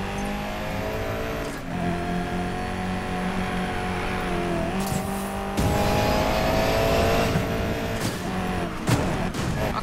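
A Pagani Huayra race car in Need for Speed Payback roars continuously up close, the engine revving and rising with a brief tire squeal and a louder surge partway through; no one talks.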